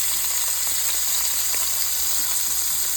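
Red pepper and celery sizzle steadily in a hot pan for a Cajun smothered fried cabbage, a continuous close, bright frying hiss with no talking.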